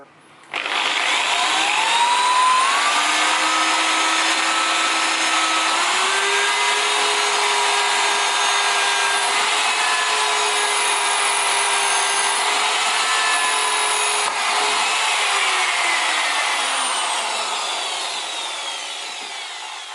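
A power drill fitted with a masonry bit bores into wood, making a loud, continuous grinding whine that shifts slightly in pitch and runs unbroken before it gradually eases off at the end.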